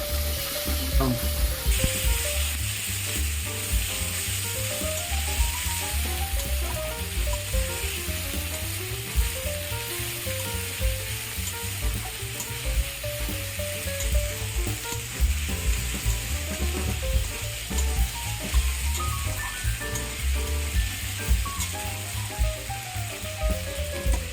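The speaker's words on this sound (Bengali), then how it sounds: "লঙ্কাটা আমি আগে কষাবো" Paste of green and dried chillies frying with spices in oil for a snakehead murrel fish dish, a loud steady sizzle running throughout with occasional stirring scrapes and a faint background melody.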